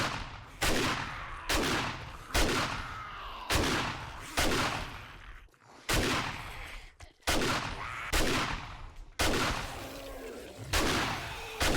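Shotgun blasts in the zombie survival game 7 Days to Die, about ten loud, sharp shots fired in a steady rhythm roughly one second apart, each followed by a short decaying tail.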